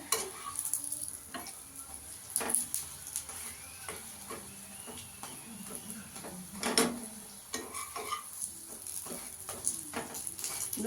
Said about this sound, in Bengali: এবার তেল দিয়ে একটু ভালো করে ভেজে নিতে হবে।